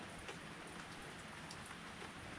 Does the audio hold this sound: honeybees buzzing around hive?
no